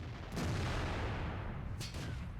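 Tank shells bounce off armor in a World of Tanks battle, heard as a couple of dull booming impacts over a rumbling, noisy background, with no talk.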